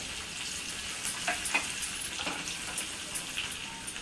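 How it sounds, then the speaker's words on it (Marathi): Green chillies frying in hot oil with mustard seeds for a tempered raw mango dish, a steady soft sizzle with faint crackles and small pops, heard alone without talk. "त्याच्यामध्ये हिरव्या मिरच्या घालून घेऊया. थोड्याशा मिरच्या अशा क्रिस्पी व्हायला पाहिजेत त्याच्यात."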